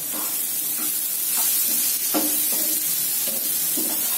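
Tomato, salt and spices are stir-fried in a pan for Bengali masoor dal: a continuous sizzle runs underneath while a spatula scrapes and knocks against the pan in irregular strokes, close and fairly loud.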